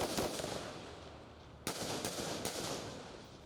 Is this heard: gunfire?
yes